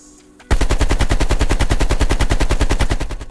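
Sustained burst of rapid automatic gunfire in Call of Duty on PS5, loud and close, tightly spaced shots running unbroken for about three seconds after a quiet start.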